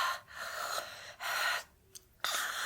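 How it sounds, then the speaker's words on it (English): A woman breathes heavily in a BBC horror radio drama, with several long, loud breathy gasps separated by short pauses and one sharp intake near the end, close and alone without talk. "This is where her breathing gets heavier."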